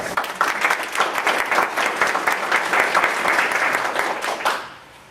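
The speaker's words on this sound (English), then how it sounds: "Let's give our three presenters a round of applause." Applause from a morning presentation audience honouring three presenters: a dense, steady crackle of many hands clapping close by for about four and a half seconds, then quickly fading to near silence.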